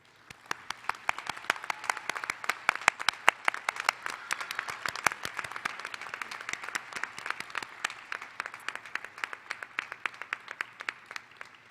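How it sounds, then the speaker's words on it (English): Graduation precommencement ceremony audience giving a sustained round of applause, dense steady clapping from many hands filling the room at moderate distance for about twelve seconds, no speech over it. "I would ask that all graduates please show your appreciation for your family members with a round of applause."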